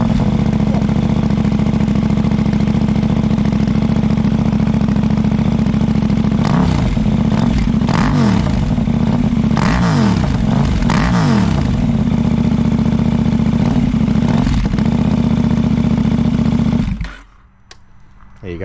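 A KTM 890 Duke with an aftermarket exhaust, run early in the morning, idles loud and close with a steady throbbing rumble, gets several sharp rev blips midway, then cuts off abruptly near the end.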